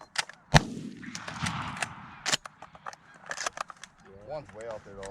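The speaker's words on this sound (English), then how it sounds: "Shoot that one that's still standing." Shotgun blast during a goose hunt, one sharp loud report early on followed by a few more distant pops, with geese honking and hunters talking nearby.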